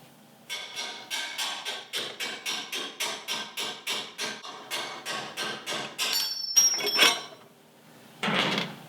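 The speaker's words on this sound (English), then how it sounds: "Once that comes out, you can just take a screwdriver and knock it out." A screwdriver is struck to drive an upper control arm bolt out during a long-arm suspension install, giving a steady series of sharp metallic knocks in quick rhythm, then a scraping pause and a final louder knock, close up.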